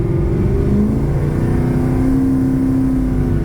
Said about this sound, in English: I'm just giving it like quarter, half throttle. I don't want to really get on it.